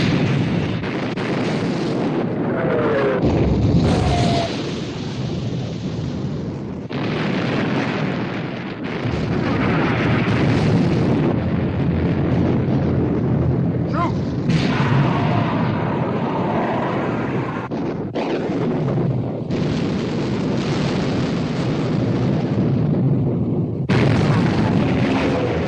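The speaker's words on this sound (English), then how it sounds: "Prince of Wales and Bismarck exchanging fire." Naval gunfire as the battleships Bismarck and Prince of Wales exchange salvos, heavy booming blasts rolling over a dense, continuous roar of battle noise with repeated loud impacts and no let-up.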